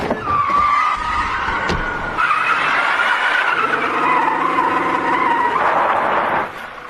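Car tires squeal in a long, loud skid with shifting pitch, broken by a sharp thump early on, and the engine stays under the screech until it fades near the end.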